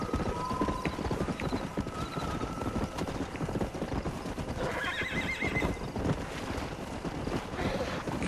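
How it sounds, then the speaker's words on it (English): Hooves clip-clop steadily while a horse whinnies loudly in the Western video game Red Dead Redemption, under wind noise. No one talks over the hoofbeats and neighing. "Ride this horse back to Bonnie."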